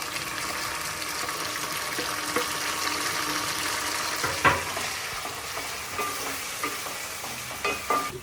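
Onions and tomatoes fry in a pan for Telangana-style chepala pulusu (fish curry), giving a steady close sizzle broken by occasional spoon scrapes and clinks as they are stirred.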